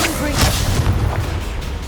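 A Confringo fire-blast spell explodes during a Hogwarts Legacy duel as a loud, short booming burst over dense combat noise, with a voice speaking in the game audio.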